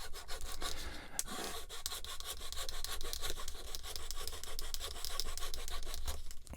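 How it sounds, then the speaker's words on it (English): A hand saw cuts steadily through a plastic part of a model kit, giving a continuous close back-and-forth rasp with a brief pause near the start, then dense strokes to the end. "Okay, so we get to get the saw out."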